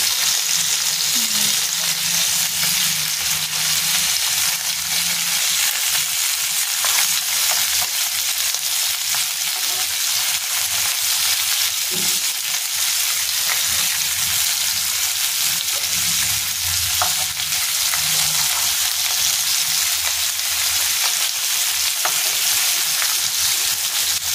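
Boal fish frying in a pan in oil, a loud, continuous close-up sizzle and crackle that holds steady throughout with a few faint knocks underneath, no voices.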